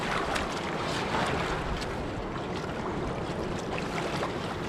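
A gold pan swirled in a spiral just under the water surface gives a continuous rushing, churning wash of water, loud and steady throughout with no voices.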